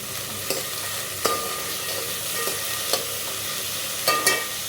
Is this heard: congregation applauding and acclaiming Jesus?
no